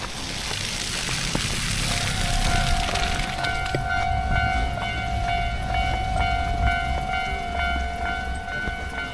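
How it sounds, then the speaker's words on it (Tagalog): A train in Japan rumbles along steadily with a broad, continuous roar, and a long sustained horn tone sounds from a few seconds in and holds through the end. "Sasakay pa ng tren."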